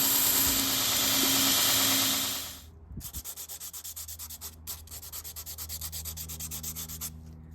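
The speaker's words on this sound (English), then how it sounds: "I sand this area now because when the handle's on and it's all glued, there's no way to get to this part and sand it again" The handle area of a san mai chef knife is sanded: a loud, continuous abrasive hiss gives way to rhythmic back-and-forth rubbing strokes, close and steady.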